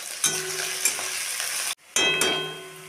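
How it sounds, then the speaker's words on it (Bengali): Chopped onion and slit green chilies sizzle in hot oil with a bright, dense crackle, a few spoon knocks, a brief silent break, then a loud fresh burst of frying that slowly fades. "আমি পেঁয়াজ কুচি আর চেরা কাঁচা লঙ্কা দিয়ে দেবো।"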